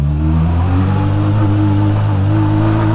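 A Honda Hornet motorcycle accelerates on a road trip, the engine revving loudly and climbing steadily through a gear, close and continuous.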